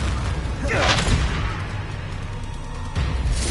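Explosive booms from the Confringo blasting spell ring out in the video game Hogwarts Legacy, with one strong blast near the start and another near the end over a continuous rumble, and a voice speaking among them.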